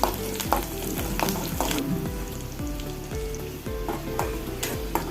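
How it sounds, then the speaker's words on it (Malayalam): Mustard seeds, finely chopped garlic and curry leaves fry in a hot pan, a steady close sizzle broken by repeated scraping stirs and a few seed pops, with no voices. "ഗ്യാസ് ഓൺ ചെയ്ത് ചീഞ്ചട്ടി വെച്ച് കടുക് കൂട്ടി 1 ചുള വെളുത്തുള്ളി ചെറുതായി അരിഞ്ഞത് ഇട്ട് കൊടുത്ത് കുറച്ച് കരിവേപ്പിലയും ഇട്ട് കൊടുത്ത്"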